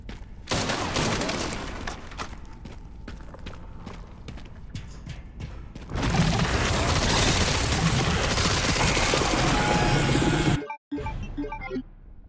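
Rapid SMG gunfire in Resident Evil 9: Requiem, with dense, continuous bursts of shots over several seconds that grow louder and more intense before an abrupt cutoff, followed by a few more shots.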